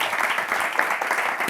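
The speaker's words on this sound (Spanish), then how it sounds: "Un aplauso." An audience at a Prom Battle contest applauds continuously. The dense clapping is steady and fairly loud, and it fills the whole moment.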